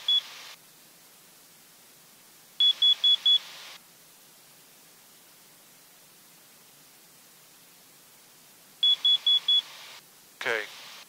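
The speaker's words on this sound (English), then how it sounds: "I'm just going to test my carbon monoxide alarm." A carbon monoxide alarm under test: three bursts of rapid high-pitched beeps, each a quick run of four chirps, separated by long quiet gaps over a low steady hum.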